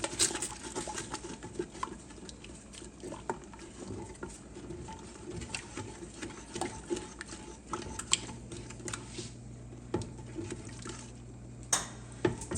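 Mac and cheese being stirred in a pot, a soft wet patter and light scraping continuing steadily, close and fairly quiet, with no one talking.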